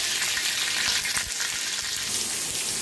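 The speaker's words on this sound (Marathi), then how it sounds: "आता तेल चांगलं तापलंय, त्याच्यात टाकूया मिरच्या" Green chillies crackle and sizzle in hot oil on an iron tawa, a dense steady hiss that fills the whole stretch, with no voices.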